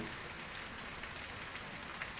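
Rain falls steadily as a soft, even hiss with no pauses, faint and far off, with no voices.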